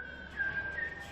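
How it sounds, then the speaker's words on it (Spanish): Silbo, the whistled language of the Canary Islands, whistled across a distance: a single sustained whistled line with slight pitch steps, fairly faint over a low background hum. "hacemos la parte práctica del silbo. Podemos silbar con cierta distancia."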